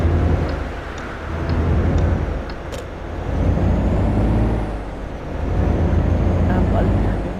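A truck engine in the video game Alaskan Road Truckers pulling away after the handbrake is released, a loud low rumble rising and falling in waves as it accelerates, with a few faint ticks.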